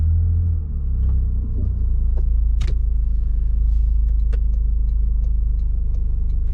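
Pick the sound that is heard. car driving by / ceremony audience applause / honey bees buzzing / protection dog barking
car driving by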